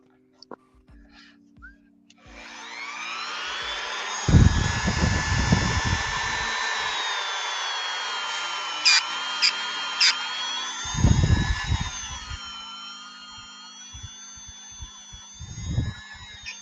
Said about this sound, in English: It feels like a Dremel